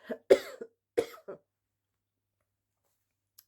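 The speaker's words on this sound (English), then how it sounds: "Sorry, I need to cough again." A few short, harsh coughs come in two quick bursts, close and fairly quiet, followed by silence.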